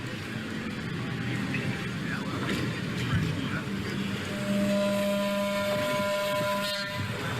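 A long, steady, mournful train whistle holds over low rumbling machinery and background chatter, sounding from a moderate distance, at the Midwest Electric Railway at Midwest Old Threshers.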